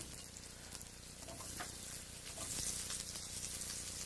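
Cubed peppers sautéing in butter in a pan, a steady close hiss and sizzle with faint stirring scrapes, quiet and continuous with no voices.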